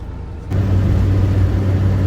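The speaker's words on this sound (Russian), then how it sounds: "Я даже не знала, что здесь есть такой маленький автобусик." A small bus in Hong Kong hums loudly and close from about halfway into the first second, a steady low engine drone with road noise that holds to the end.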